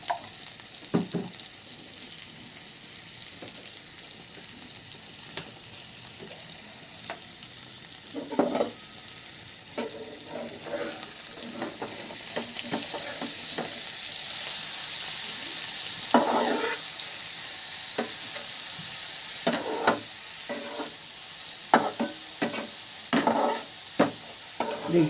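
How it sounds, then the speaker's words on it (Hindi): Vegetables sizzling and frying in a pan for egg noodles, a continuous loud hiss broken by repeated scraping stirs of a spatula at irregular intervals. "देखिए हमारी तरकारी भी अच्छे से इसमें फ्राई हो रही, अच्छे से तले जा रही"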